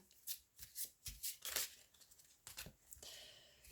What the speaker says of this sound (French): je vais prendre l'oracle d'Élise pour continuer ce tirage